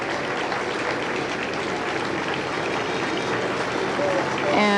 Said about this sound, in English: The crowd broke out in applause at his appearance and walking with his wife Nancy.